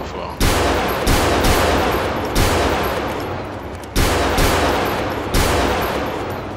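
Heavy gunfire in the video game GTA 4 with army mods fires as loud sustained bursts, each cut off abruptly by a short gap before the next volley, roughly five bursts in all.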